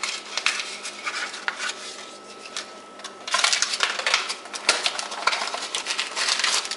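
Metal spoon clinks and scrapes steadily against a bowl while stirring Kool-Aid powder for sour gummy candy, a close, busy run of rapid taps with no talking.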